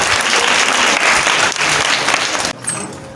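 An audience applauding loudly after a speech, dense continuous clapping that drops sharply near the end, leaving a few scattered claps.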